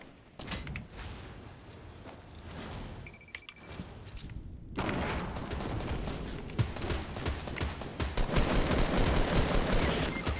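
Heavy gunfire in a Fortnite Battle Royale match, rapid bursts of shots and mechanical clatter growing denser and louder after a brief lull, sustained and fairly close.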